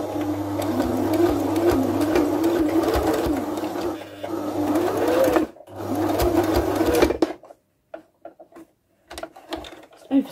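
A sewing machine stitches a fabric face covering in a loud, steady whirring run of several seconds with a brief stop, then gives way to quiet clicks and handling noises.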